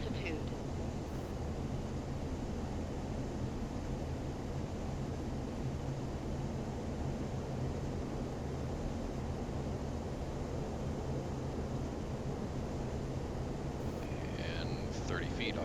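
Engine roar of an F-15E Strike Eagle jet in a flight simulator game, a steady, loud broadband drone without a break, with faint beeps and tones, probably cockpit alerts, near the start and end.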